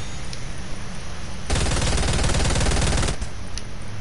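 A Charge SMG fires in Fortnite, a loud, close, rapid burst of about a second and a half standing out sharply against quieter game ambience.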